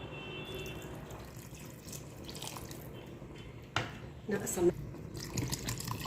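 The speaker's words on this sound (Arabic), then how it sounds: "نعبي لها مي منيح عشان تكون مرقتها ظريفة" Tap water running into a cooking pot of green beans with chicken, a steady gushing stream that grows louder and splashier toward the end while someone talks over it.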